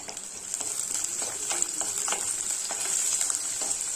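Small onions and green chillies sauté in a pan for a bitter gourd gravy, giving a steady close sizzle with light stirring scrapes throughout.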